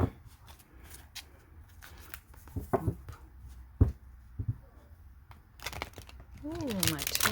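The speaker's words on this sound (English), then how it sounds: "Ooh, my terrible shuffles." A deck of tarot cards is shuffled by hand with uneven riffles and snaps, some sharp and close. Brief speech comes in near the end.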